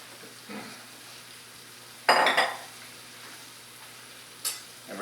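Chopped onions, two medium ones, are stirred into browned meat in a pot for a Guinness stew, with a sudden loud scraping rattle of spoon on pot and a softer clink later over a faint sizzle.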